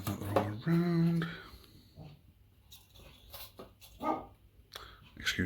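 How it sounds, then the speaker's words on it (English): An indoor dog lets out a brief, moderately loud bark that is partly muffled, amid quiet talk and small handling noises. "Excuse the dog."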